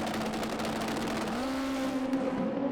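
Super Street Bike drag racing motorcycles launch hard from the lights at Santa Pod's European Finals, a loud sustained engine roar that rises in pitch partway through and stays steady throughout, with no voices over it.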